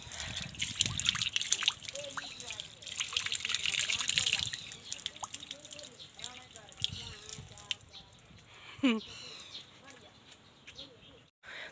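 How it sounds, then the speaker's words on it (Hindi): Water runs from a tap at a water tank outside an old house in Kullu, making a steady trickle with drips. People talk over it, and birds chirp in the background. "और यहाँ पे है पानी की टंकी, और ये है नल"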